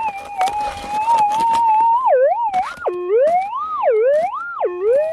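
Metal detector tone while searching for gold, swept over a loud target: a steady warbling pitch that turns into loud rising and falling swoops, strong and close, with no talking.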